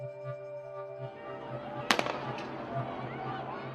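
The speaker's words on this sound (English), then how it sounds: "police shoot projectiles at onlookers standing above the highway" Police fire projectiles at onlookers standing above a highway as a Philadelphia protest winds down: a sharp burst of two or three quick bangs mid-clip over a hum and distant crowd noise.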